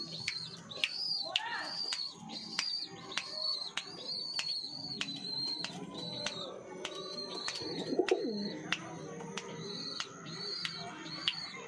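A female pigeon coos softly indoors, low murmuring calls repeating, while a sharp high chirping repeats steadily in a fast regular pattern nearby.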